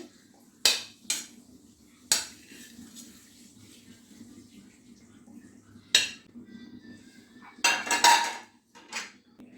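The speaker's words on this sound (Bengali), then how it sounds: "ভালো করে মিশিয়ে নিতে হবে। এর সঙ্গে পনিরটা দিয়ে দিতে হবে।" Paneer cubes being mixed into a besan and yogurt marinade in a bowl for paneer tikka, giving several separate clinks and scrapes of utensil on bowl with quieter handling between.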